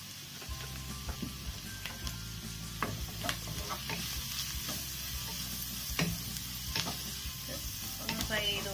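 Sliced onion sizzling quietly in hot oil with a pinch of turmeric while being stirred for pepper chicken: a steady soft fry with occasional light spatula taps and scrapes, fairly faint and without speech.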